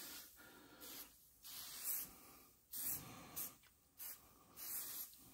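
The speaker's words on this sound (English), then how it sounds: "Spray underneath it too." Several short hissing bursts of an aerosol spray can on an Aston Martin, in uneven pulses with brief pauses between, close by and fairly loud.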